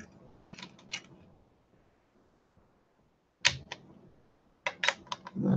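Scissors snip a poinsettia holiday decoration in short clusters of crisp clicks and cuts, separated by quiet pauses, close and fairly soft.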